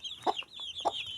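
Chickens cluck in short, close bursts over high peeping chirps from chicks, a lively brief farmyard chatter with no talking.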